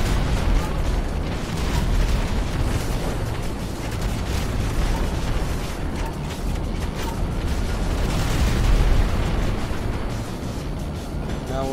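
Bombs dropped from an aircraft explode in GTA 5, a continuous loud rumbling roar of blasts and booms filling the whole stretch with no pause.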